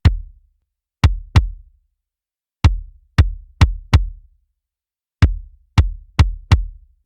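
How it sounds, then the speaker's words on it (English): A kick drum blended with its own transient attack track plays alone as sharp, punchy thumps with quick decays, falling in irregular pairs and clusters of about ten hits across a few seconds. "So it's just the transient of that, and then blended with the original kick"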